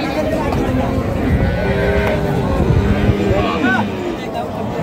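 Cattle at a rural market, including Sahiwal, Sindhi and local dairy cows with calves, low repeated moos over a steady crowd murmur while people talk nearby.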